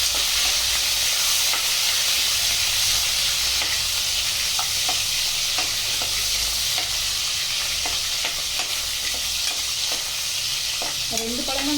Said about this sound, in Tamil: நல்லா வதக்கி வைக்கிறோம்.